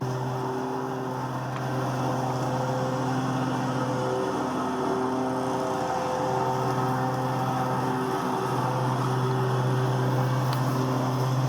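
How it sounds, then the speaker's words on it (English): A steady, droning small lawnmower engine hums continuously at close range, a constant low mechanical buzz with little variation throughout. "now I'm going to start up some nice engine lawnmower sounds for 8 hours for sleeping"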